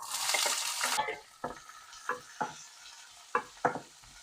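Onion and green chilli sauté in a pan for a water spinach (kangkung) curry: a loud sizzle bursts up at first, then fades to a low fry under a series of sharp spoon-scraping knocks against the pan.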